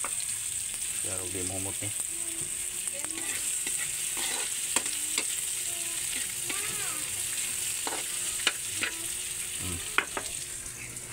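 Onions, ginger and garlic sizzle steadily in a hot pan, with scattered clinks and scrapes as they are stirred and someone speaking briefly over the cooking.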